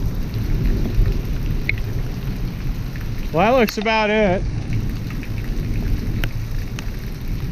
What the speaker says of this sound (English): The rain gauge says we got a 1/4 inch already, so it's coming down pretty quick.